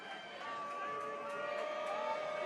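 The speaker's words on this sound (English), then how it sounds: "Even some of the crowd is saying onside kick." Football crowd outside an open press-box window calling for an onside kick, a distant steady murmur of voices heard faintly at a high school game.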